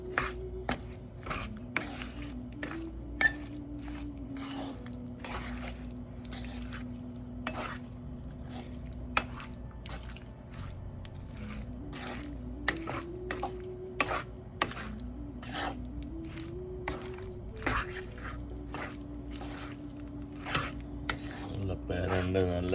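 Chopped ivy gourd stirred into pickle in a pan, with soft repeated scraping and squishing strokes of a spoon over a faint sizzle, close and quiet, at an uneven rhythm.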